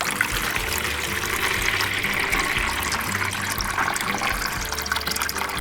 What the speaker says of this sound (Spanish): ahora en un contenedor grande o en un bol vamos a agregar un poco de agua.